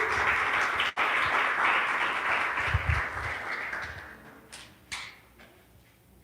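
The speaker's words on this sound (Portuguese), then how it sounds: "dê um aplauso lindo ao Senhor Jesus" An audience at a Father's Day church service gives a burst of applause, a dense, fairly loud clapping that thins out and fades toward the end with a few scattered claps.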